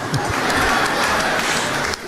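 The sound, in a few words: applause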